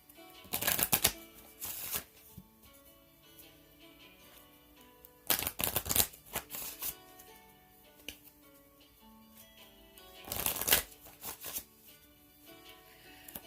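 Tarot cards are shuffled in three brief riffling bursts spaced several seconds apart, with soft handling noises in between.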